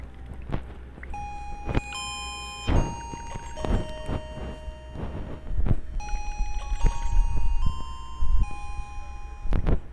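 A bell rings in a series of clear, sustained chime tones with overlapping notes, close and fairly loud, alongside soft thumps and room noise.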